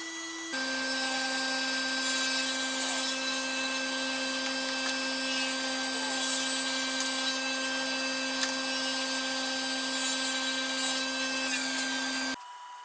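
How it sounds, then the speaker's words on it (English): A table saw with a crosscut sled and stop block, set up for repetitive cuts in a woodworking shop, gives a loud, steady high-pitched motor whine that holds evenly for about twelve seconds, then cuts off abruptly. "set up a stop block on crosscut sled,"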